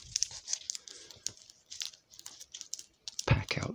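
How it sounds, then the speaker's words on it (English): Masking tape is torn off in short, crisp rips and crinkles, several quick tearing bursts spread irregularly through the clip, close and fairly quiet, with a louder tear near the end. "stick out some tape. I'm using the masking tape and gluing that on"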